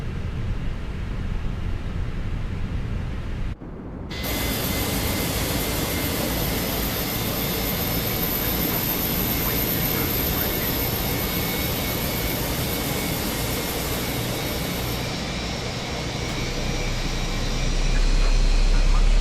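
A jet airliner engine in the Fenix flight simulator roars as a steady, loud broadband rush with a high whine on top, running continuously close by after an abrupt start and swelling slightly near the end.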